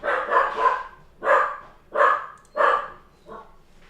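Dog barking indoors, five loud separate barks in an uneven rhythm close by, the last one softer.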